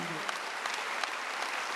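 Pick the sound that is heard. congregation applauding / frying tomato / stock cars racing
congregation applauding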